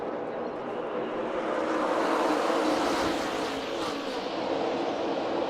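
NASCAR Xfinity Series race cars roar past on an oval track during a race, a dense continuous engine drone with a brief swelling pass near the middle, steady and fairly loud throughout.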